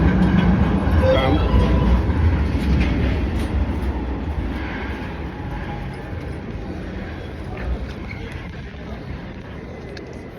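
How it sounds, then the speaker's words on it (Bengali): A street tram on rails in Turkey rolls past nearby, its loud rumbling and rattle strongest at first, then slowly fading as it moves away over about ten seconds. "এটাই হচ্ছে ট্রাম। এই দেখুন চলে যাচ্ছে"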